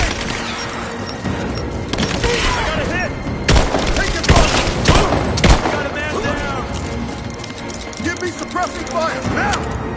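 Gunfire during an attack in the video game Rise of the Tomb Raider, with dense, continuous shots and sharp louder bursts crackling close by throughout, while voices shout over the battle.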